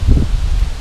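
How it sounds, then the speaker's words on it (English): Strong wind on a bike ride toward the Baltic Sea, a brief loud buffet of low rumbling wind noise hitting the microphone. "it's super windy"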